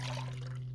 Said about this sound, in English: So I'm going to get some water